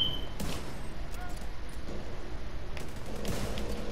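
Gunfire from The Division 2 snipers and squad, scattered shots cracking across a steady roar of game noise, with players talking over it.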